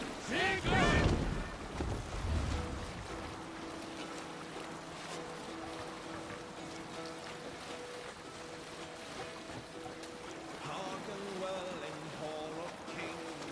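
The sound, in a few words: boat sailing out to sea in Assassin's Creed Valhalla video game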